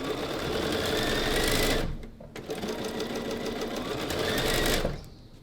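Home sewing machine chain piecing a quilt block, a steady rapid whir of stitching that runs, pauses briefly, resumes, then trails off near the end, close and alone with no talk.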